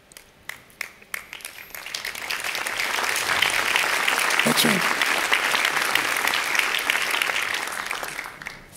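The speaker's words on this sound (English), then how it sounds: "Thank you for that round of applause" Conference audience at the EAT Forum 2018 bursts into applause after a few scattered early claps, building to a dense, sustained ovation; a brief spoken phrase sits near the start.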